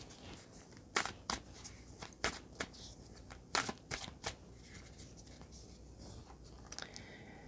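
Animal spirit oracle cards being shuffled close by: several soft, crisp riffling bursts separated by short pauses, with quieter papery rustles between them.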